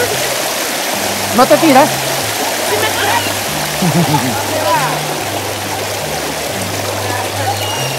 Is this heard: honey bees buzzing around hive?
no